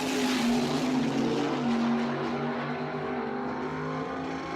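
A 1962 Corvette drag car making a sub-nine-second pass at a drag strip, its engine a steady loud roar holding a sustained tone that fades slightly as it moves away.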